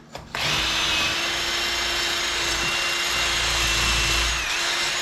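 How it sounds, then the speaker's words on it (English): A small wire wheel on a power tool grinds rust off a part of a 1964 AMC wagon, a steady loud whirring scrape that starts abruptly and runs continuously with a constant motor whine. "I'm gonna keep hitting it with the wire wheel, get some of the rust out,"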